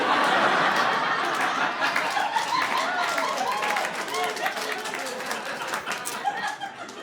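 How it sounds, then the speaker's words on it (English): Audience at a stand-up comedy show clapping and chuckling, a loud burst of applause mixed with laughter that gradually thins and fades, heard alone without a voice over it. "Thank you for applauding Coinstar."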